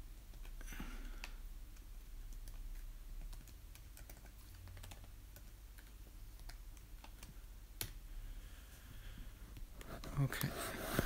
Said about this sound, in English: let's type the password